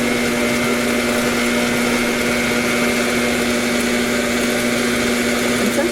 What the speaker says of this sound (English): Sometimes my mixer goes a little bit fast, so I have to kind of slow it down a little bit so it actually mixes the product